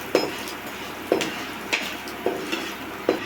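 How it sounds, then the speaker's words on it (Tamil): Fenugreek seeds, black pepper and two dried red chillies dry-roasting in a pan, with a spatula scraping and clinking against the metal in five or six spaced strokes over a soft, steady crackle. "நம்ம எடுத்து வச்சுருக்கிற வெந்தயம், மிளகு, 2 வரமிளகா, இதெல்லாம் நல்லா நம்ம வறுத்து எடுத்துக்கலாம்"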